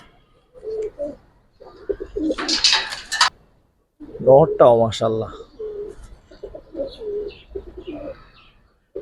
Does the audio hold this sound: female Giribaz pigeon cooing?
yes